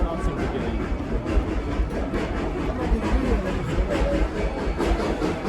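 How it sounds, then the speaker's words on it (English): A train climbs a hill and passes close by on the adjacent track in Colorado, a sustained broad rumble with rhythmic clattering from the wheels, steady and moderately loud throughout. "we are going to have one come up the hill and pass us"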